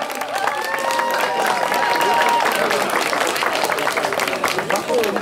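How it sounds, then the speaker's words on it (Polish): A crowd at a live band concert at a film festival claps and cheers continuously, a dense wash of applause with voices mixed in throughout. "Brawa dla Was, tak licznie zgromadzonej publiczności."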